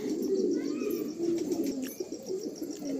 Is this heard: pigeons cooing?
yes